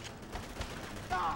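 A short burst of muffled gunfire in Call of Duty World at War on Mount Tapochau, the trench gun shotgun booming faintly among battle noise, with brief talk under it.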